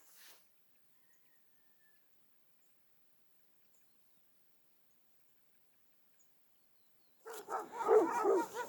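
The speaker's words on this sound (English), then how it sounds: "We have a bunch of dogs barking at us now." Several dogs bark from fairly close range toward hikers on a hitchhiking trip in Greece, a burst of overlapping barks arriving suddenly after a long quiet stretch.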